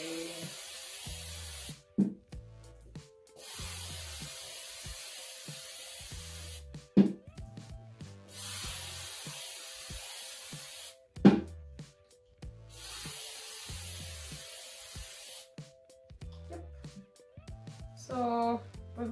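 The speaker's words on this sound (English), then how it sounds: "You just spray on top." Spray paint hisses from an aerosol can onto a bottle in repeated long bursts of about two to three seconds each, with brief pauses, clicks and handling noises between, and some quiet background sounds.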